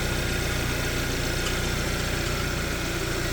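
A car engine idles with a fast, steady ticking fault, a dense rhythmic patter over a constant low hum recorded up close in the engine bay, with no talk.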